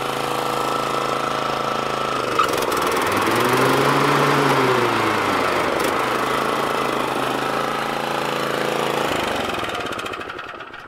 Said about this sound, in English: as you can see with this mower, it starts up first pull every time